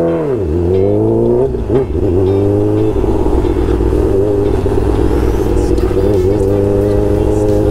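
A new Honda Hornet motorcycle engine revving and pulling hard while riding, with loud close rises and falls in pitch as the rider works through the gears and wind noise rushes past.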